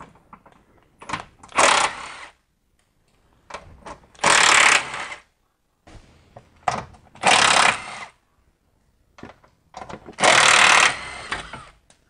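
Bolts on the sway bar bushing mounts of a BMW E46 being removed with a power tool, four loud bursts of rapid hammering, each lasting about a second, separated by quiet gaps with small clicks and handling noises.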